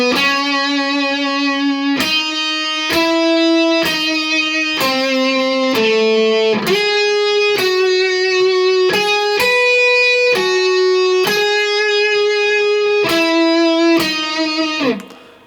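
Guitar in standard tuning plays an opening line, a clear melody of about a dozen distinct plucked notes with a short pause partway through, close and loud.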